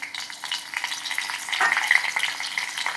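Mustard seeds, cumin, garlic and curry leaves sizzling in hot oil, a close, steady crackling fry with soft stirring scrapes throughout, no talking.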